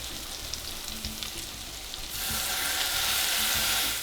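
Turkey burger sizzling steadily in a pan, with a splash of balsamic vinegar added partway through that brings a louder, hissing burst of frying; close and continuous, with no talk.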